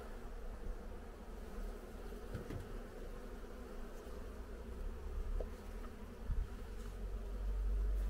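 Caucasian honey bees buzz around an open hive during autumn care, a faint, steady, close drone of many insects with no talking.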